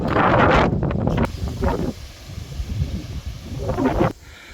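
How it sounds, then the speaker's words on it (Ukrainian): Strong wind buffets a phone microphone at an outdoor children's sports playground in a village, in loud, rumbling gusts that ease off in the middle, surge again, then drop away. "Зараз сильний вітер, то так уже направляю телефон, щоб не дуже заважав вітер"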